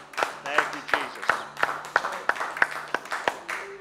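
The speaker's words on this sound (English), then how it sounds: "Give him a hand clap." A church congregation claps in a steady rhythm, roughly three claps per second, during a Wednesday service. The claps are fairly faint, with a voice speaking under them.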